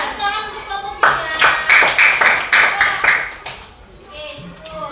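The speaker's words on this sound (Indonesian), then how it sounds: "Kasih tepuk tangan untuk kelompok 3." A class claps in a rhythmic, patterned burst for a student group during a classroom lesson, several sharp beats in a row that fade at the end, with a voice speaking before and after.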